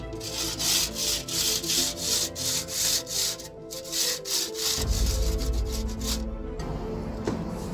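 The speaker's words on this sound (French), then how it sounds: "j'utilise une scie égoïne classique avec des belles dents qui vont usiner la pierre calcaire" A classic hand saw rasps through limestone in steady back-and-forth strokes, the gritty scraping repeating at a regular rhythm with nothing else heard.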